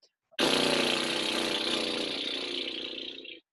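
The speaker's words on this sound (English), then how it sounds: "notice how much wind it takes to get those lips flapping at all" A singer does a lip trill, the lips flapping on a deep belly breath. The buzzy, voiced flutter is close and steady, lasts about three seconds, then cuts off, with no other sound around it.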